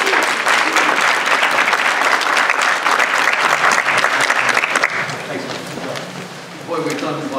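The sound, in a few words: audience applause welcoming a speaker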